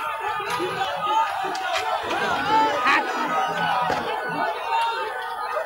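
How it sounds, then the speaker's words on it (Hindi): Dense crowd of supporters at a Chirag Paswan rally at Gandhi Maidan, with a constant din of overlapping voices, shouts and chatter plus occasional sharp knocks, heard close and loud throughout. "इस तरीके का भीड़ नजर आ रहा है"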